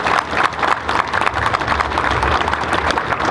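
Audience applause for Governor Scott at a gathering, a steady, dense patter of many hands clapping that carries evenly from start to finish without a break.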